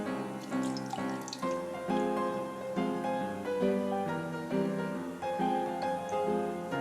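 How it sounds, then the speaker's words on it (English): Bottled water pours steadily into a small sea monkey tank for brine shrimp, a continuous bubbling, gurgling splash that shifts in pitch as the level rises, close and alone without talk. "So I just need to fill the tank up with some bottled water."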